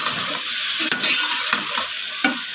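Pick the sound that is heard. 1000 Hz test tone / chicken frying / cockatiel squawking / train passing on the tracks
chicken frying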